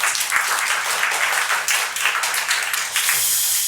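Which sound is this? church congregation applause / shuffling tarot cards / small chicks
church congregation applause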